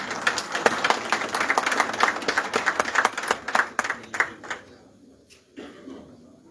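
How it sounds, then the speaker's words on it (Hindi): A seated audience at a Chamber of Commerce and Industries building inauguration claps to welcome an honoured guest, a dense burst of many hands that thins out and stops near the end. "जोर से तालियों से स्वागत करें प्लीज।"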